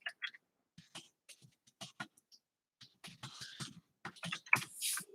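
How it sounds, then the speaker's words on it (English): Typing on a computer keyboard, entering a web address, in a series of quick uneven key clicks and bursts, close and fairly clear with no talking. "I'll type it in here."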